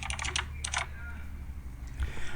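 A keyboard-typing sound effect plays in a video editor as two quick bursts of clattering keystrokes followed by a softer tap, close and moderately loud over a low background hum.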